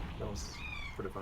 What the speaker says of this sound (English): I think that's my cat.